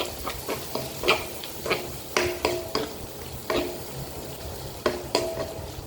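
Chicken noodles with salt and pepper powder being stirred and tossed in a pan, with repeated clear utensil scrapes and clinks in an irregular rhythm over a soft continuous sizzle, close and fairly loud, with no talking.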